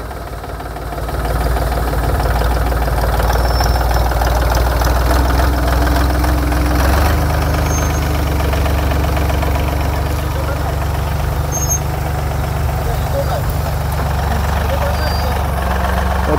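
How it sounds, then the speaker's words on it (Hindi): A heavy tractor engine idles and revs steadily with a deep rumble while pulling a vehicle stuck in wet ground, continuous throughout, with faint voices in the background. "तो अभी इसको ट्रैक्टर से निकाल रहे हैं।"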